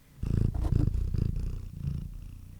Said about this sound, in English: Yo, you're purring. You can purr into the mic.